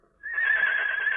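A horse neighs loudly and close by, one sustained shrill whinny that rises abruptly and holds steady for about a second, heard alone over a quiet background.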